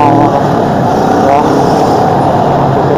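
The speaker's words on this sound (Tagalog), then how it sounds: "Ayan tayo sa motor rin siyempre oh." A motorcycle riding along Commonwealth Avenue in traffic, with a close, continuous engine drone and layered harmonic buzz that holds steady throughout.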